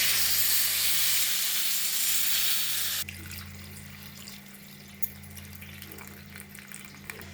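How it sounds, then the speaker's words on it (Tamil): Diluted water is poured into a pan of yam and dried-fish curry, a steady loud rush of running water for about three seconds that then gives way to quiet kitchen rustling. "தண்ணியை கொஞ்சம் கரைச்சி ஊற்றிக்கலாம்."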